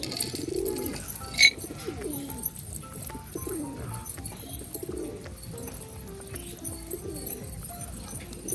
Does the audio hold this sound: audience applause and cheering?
no